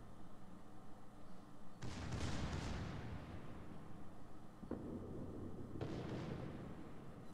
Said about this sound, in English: Boom, torpedo hit.